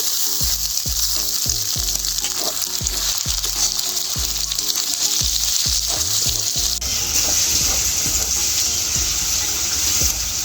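Chopped tomato hits a hot frying pan of chicken curry base, giving a loud, steady sizzle with repeated clanking stirs of a spoon in the first two-thirds, then continuous frying hiss alone.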